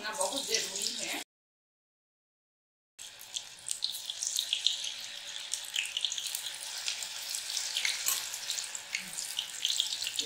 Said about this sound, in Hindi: एक बार जितना पकौड़ा आ सकेगा उतना हम डाल देंगे